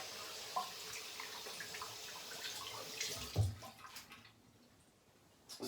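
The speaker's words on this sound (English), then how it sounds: "I'm gonna rinse the rest of the balm off." Running water from a tap splashes steadily as shaving balm is rinsed off after a budget shave, faint and close, tapering away near the end with no talking.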